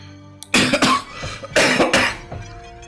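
A person coughs close up in a few harsh bursts, two clusters separated by a short pause, with no talking around them.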